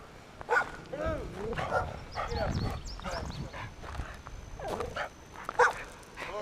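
A dog barks and whimpers with high, wavering whines and short yips, close by and fairly loud, while people talk over it.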